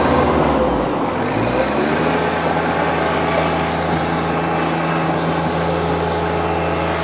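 A 2019 John Deere 1025R sub-compact tractor's small engine runs at a steady idle up close, driving the rear PTO, with a constant low mechanical hum and drone that never changes pitch.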